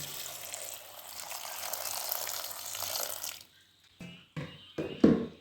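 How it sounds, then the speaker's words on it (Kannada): Water pours steadily into a pot of cut soursop pieces with a soft splashing rush for a few seconds, then stops, followed by a few brief clinks and knocks. "ನೀರು ಹಾಕ್ತಾ ಇದ್ದೇನೆ."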